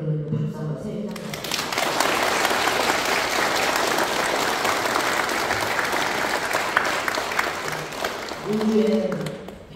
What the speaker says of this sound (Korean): 그런 박수 한번 세게